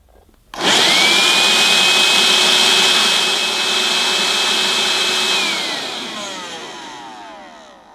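A Vax Kone cordless vacuum cleaner switches on with a sudden loud whine that holds at a steady, strong pitch for several seconds, then begins to wind down and fade as the motor slows.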